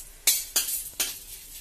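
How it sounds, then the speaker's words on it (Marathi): Edible gum frying in ghee in a kadai gets stirred, with three sharp scraping strokes at a steady pace over a faint sizzle and no voices. "आता कढईमध्ये थोडंसं तूप घालून त्याचे डिंक"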